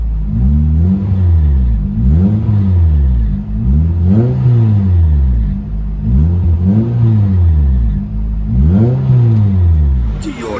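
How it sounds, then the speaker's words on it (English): Straight-piped exhaust of a 2001 Toyota MR-2 Spyder with a custom hardtop, heard from inside the cabin: loud, close revs rising and falling in repeated waves over a deep droning idle. "Toyota MR-2 straight pipe"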